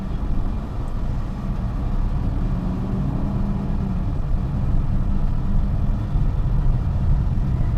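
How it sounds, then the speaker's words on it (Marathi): A Tata Nano automatic with its small 624 cc engine runs with the air conditioning switched on, giving a steady low rumble and hum that stays even and close throughout, with no talking. "ए सीमध्ये थोडीशी गाडी पिकअपला मार खाते कारण इंजिन कमी आहे सहाशे चोवीस सी सी असल्यामुळे"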